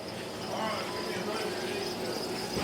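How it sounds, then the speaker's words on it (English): A box of about ten thousand crickets at a bait shop keeps up a dense, continuous shrill chirping, steady and fairly close throughout. "All right, back here looking at crickets."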